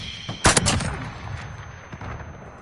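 Gunfire in the Warzone video game: a sharp burst of rapid shots followed by a few scattered single cracks, loud and close, with game ambience underneath.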